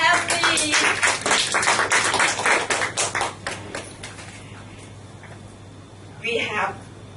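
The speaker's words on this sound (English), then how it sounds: "A big round of applause to Toastmasters" Applause at a Toastmasters club meeting, a short burst of scattered clapping that thins out and fades within a few seconds, followed by quieter room sound and a brief noise near the end.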